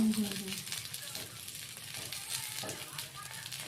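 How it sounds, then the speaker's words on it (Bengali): Oil splattering and crackling in a frying pan where potatoes are being fried, a continuous soft sizzle with scattered pops and spits running under a person talking. "তেলটা ছিটকাচ্ছে।"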